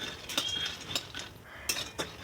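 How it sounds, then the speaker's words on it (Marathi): Peanuts being roasted in a hot kadhai, faint scraping and light clinks of a spatula stirring the nuts against the metal pan, a few irregular strokes over a soft background hiss. "कढई तापायला ठेवली आणि त्यामध्ये शेंगदाणे छान भाजून घेते"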